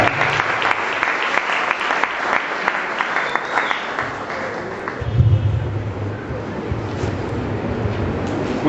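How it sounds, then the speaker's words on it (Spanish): Audience applause at a university seminar welcoming a speaker from Barcelona: steady, full clapping from a crowd, fading into a sustained lower wash of room noise after about five seconds. "es él a quien recibimos con un tremendo aplauso"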